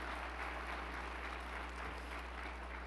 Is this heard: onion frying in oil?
no